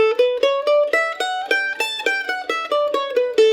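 A bright plucked mandolin melody of Old Joe Clark in Mixolydian mode, quick picked notes in a steady lilting rhythm, played alone and close.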